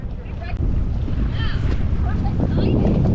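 Loud, constant wind buffeting and engine rumble of a small water taxi moving over water in the British Virgin Islands, with faint voices mixed in.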